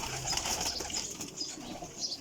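Pigeons coo low and softly with occasional wing flaps, close by over a steady hiss of background noise, no voices.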